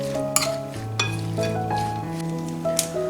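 Potato and beaten egg mixture being stirred in a bowl, with repeated light clinks of a utensil against the bowl over a steady background and faint tonal music.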